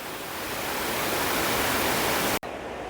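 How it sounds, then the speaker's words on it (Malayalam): A Meghalaya waterfall pours in a steady, loud, even rush of white water, broken by a momentary dropout near the end, with no voices. "എല്ലാ വെള്ളച്ചാട്ടം ഓരോ ഷേപ്പാണ് ഓരോ ഭംഗിയാണ്"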